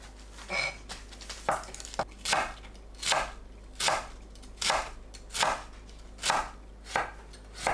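A knife chops cabbage into 0.5 cm strips on a cutting board, about ten evenly spaced, crisp strokes, close and distinct, with no talking.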